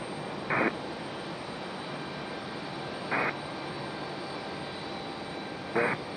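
A Southwest Airlines jet arriving at Raleigh-Durham International Airport in stormy weather, its engines a steady, distant broadband roar, broken by three short, evenly spaced tonal beeps.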